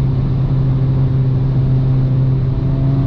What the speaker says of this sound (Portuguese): Olha o upzinho acelerando aqui